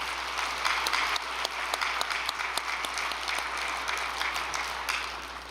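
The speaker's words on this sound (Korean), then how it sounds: "감사의 박수를 보내드리겠습니다" Dense audience applause of thanks at a church gathering, steady and fairly loud throughout with scattered sharper claps, no talking.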